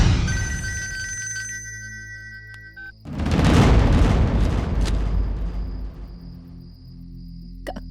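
A phone rings with a tonal, repeating electronic ring for about three seconds. A loud, rumbling, booming burst follows, and a thin high tone lingers underneath.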